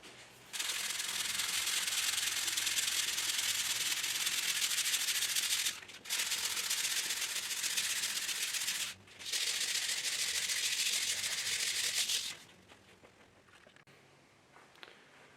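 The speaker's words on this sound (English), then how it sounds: "Now I'm on the hand sanding, so it'll be hand only from here." Hand sanding a wooden workbench top with sandpaper, a steady loud scratchy rasp in three long passes separated by brief pauses, then fading to quiet near the end.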